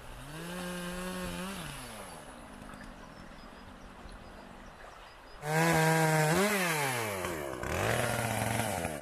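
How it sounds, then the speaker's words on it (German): Chainsaws cut back pollard willows beside a mill stream, engines revving and dropping in sweeping pitch, one running at moderate distance before a louder, closer saw takes over. "Das klingt doch nach Motorsägen."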